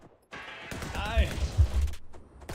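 Bursts of gunfire aimed at robots in ExoForge, thuds and pops that come mixed with a voice and muffled game noise, rising in short clusters before a fade.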